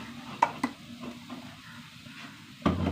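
Crushed peanut mixture stirred in a pan, a soft continuous scraping with a light sizzle underneath and a few sharper clacks of the utensil against the pan at the start and near the end.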